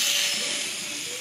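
Southern Pacific 6380, a steam locomotive, lets out a loud, close, broadband hiss of steam that holds steady and eases off slightly over about a second.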